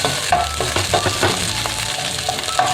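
Onions frying in oil in a pan for pork chao fan give a steady close sizzle with small crackles and pops throughout, with no voices.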